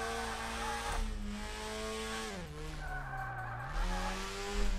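Mazda RX-8 swapped to a turbocharged four-cylinder drifting in DRIFT21, its engine tone sliding up and down through gear and throttle changes with tyre squeal, close and steady, with no talk.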